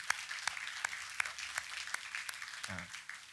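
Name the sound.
congregation applause welcoming first-time visitors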